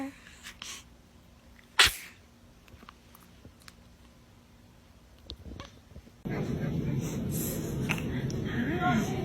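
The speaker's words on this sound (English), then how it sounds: "Were you about to sneeze?" A baby gives one sharp, close sneeze amid quiet breathing and small rustles, and a louder steady background noise comes in a few seconds later.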